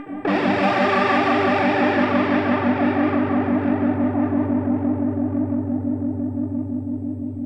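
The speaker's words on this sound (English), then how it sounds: "We got a chorus. So let's put that on. Let's change it, put the rate up" A sustained distorted guitar chord rings out with a fast, wavering chorus shimmer from a Hotone Ampero Mini's chorus set to a high rate, slowly decaying over several seconds.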